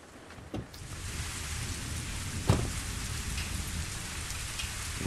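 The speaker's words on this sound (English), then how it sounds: "It was a stormy, rainful night." Heavy storm rain hisses steadily in the horror game The Gap, with low thunder rumbling underneath and a sharper crack of thunder midway, loud and close, with no voices.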